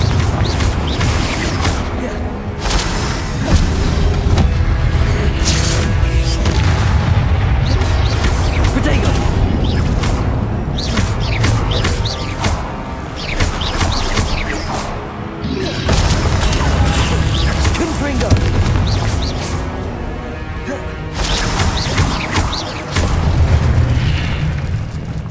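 Repeated heavy blasts from Confringo spells in Hogwarts Legacy boom and crash through a combat sequence, loud bursts and mechanical clatter arriving in dense clusters with brief lulls between them.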